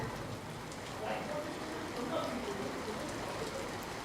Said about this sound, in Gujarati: ભારે પવન સાથે ધોધમાર વરસાદ વરસ્યો છે